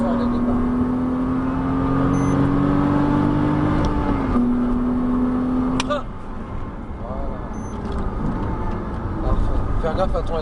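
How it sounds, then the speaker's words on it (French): Porsche Cayman S on a track, engine droning steadily then dropping in pitch as it brakes hard, with gear changes after; a driving instructor talks over the cabin noise throughout. "frein dégressif, on va freiner fort dès le départ"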